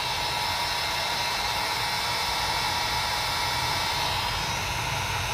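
A heat gun blows a steady, loud stream of hot air onto wet paint on a curly wreath rail, a constant roaring hiss with no pauses and no talk.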